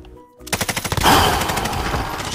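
Automatic gunfire in the Call of Duty Warzone video game: a rapid, loud burst of closely spaced shots following a brief lull, then a sustained rattling volley, with no talk over it.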